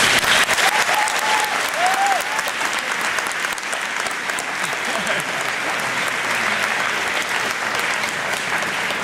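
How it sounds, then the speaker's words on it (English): A crowd at a 2010 mayoral candidate forum in Calgary applauds loudly and steadily throughout, with dense clapping that holds at a constant level and a faint voice briefly heard early on. "So just a quick round of applause for the candidates."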